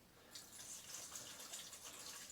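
Water pours steadily into a wet tumbler used for cleaning brass, a continuous close splashing gush that begins abruptly after a short quiet start and runs on alone without talk.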